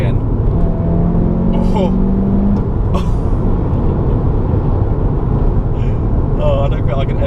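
A SEAT Leon Cupra 300 engine drones loudly from inside the cabin after a downshift, with a rising rev flaring briefly early on over steady road roar, and a person speaking briefly.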